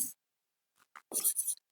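A pen scratches across paper or a board in short bursts separated by silence, faint and close, with no voice heard.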